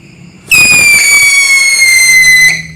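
A cobra firecracker lit at night during Ramadan lets out a loud, sustained high shrieking whistle for about two seconds, starting abruptly and cutting off sharply, after a brief quiet lead-in.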